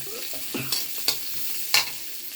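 Onion and garam masala fry in oil, a steady close sizzle broken by a few sharp stirring scrapes of a spatula against the pan.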